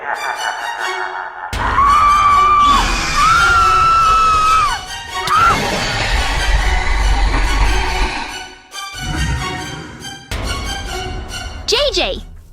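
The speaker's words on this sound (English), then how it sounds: "did you hear those screams on the radio?" Screams come over a police radio in a Minecraft game, high and wavering, with several drawn-out cries rising and falling amid loud voices, noise and crashing effects.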